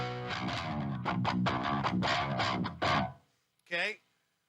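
Electric guitar played through distortion and effects, bass turned up with a touch of treble: a run of thick, harmonically rich picked notes and chords, loud and steady, then a brief pause and one last bending note fading out.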